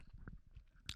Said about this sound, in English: listen to me chew for a second